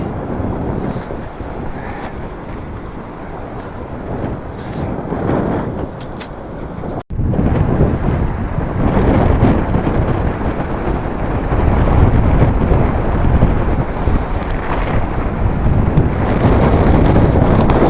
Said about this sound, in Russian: Ну вот, еще ветер встречный пошел.